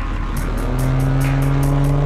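Toyota Cresta drag car with a roughly 800 hp engine revving at the start line of a drag race, a loud, sustained, steady roar with a droning tone, close up and without talking.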